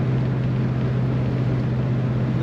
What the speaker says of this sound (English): Exhaust note coming out the back sounds great.